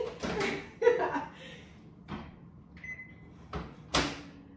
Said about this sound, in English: So we're gonna get this in the microwave right away.